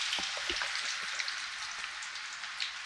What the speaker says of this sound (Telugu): కాగిన నూనెలో కొంచెం కొంచెంగా ఈ విధంగా ఉల్లిపాయ పకోడా ఎలా వేస్తామో అదే విధంగా వేసేసుకోవాలి